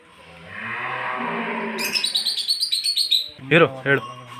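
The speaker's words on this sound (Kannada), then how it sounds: "ವಿಶೇಷವಾದ ಪಕ್ಷಿಗಳು ಕೂಡ ಇಲ್ಲಿ ಸಾಕಿದ್ದಾರೆ" Birds kept in the grounds of the Bikkalahalli Muneshwara temple in Gauribidanur, Chikkaballapur district, chirp close by in a rapid string of bright, high tweets. A few sharper calls follow near the end.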